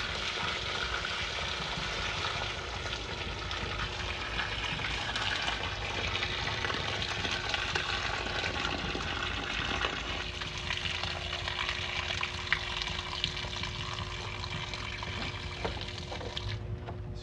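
Water runs steadily out of a cleared air-conditioner condensation drain line, a continuous close splashing pour that holds evenly throughout with no talking.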